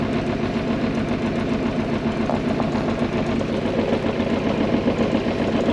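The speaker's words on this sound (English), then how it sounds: "there's enough fuel in that line to run this motor for probably 15-20 minutes. So far so good, revs are steady." A newly installed engine idling steadily, a constant close mechanical hum with a faint knocking rhythm and no change in revs throughout.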